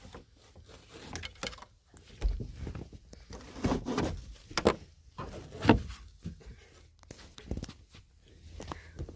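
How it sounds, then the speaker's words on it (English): A home sliding door is handled and opened amid scattered knocks, bumps and shuffling footsteps, moderately close with uneven thuds and no talking. "take this down so I could get out my sliding door"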